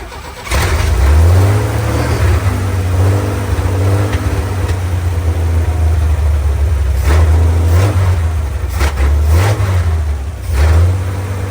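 A 1966 Chevrolet C10 pickup engine cranks and catches, then runs loud and close with several rising revs over a rough idle, no voices.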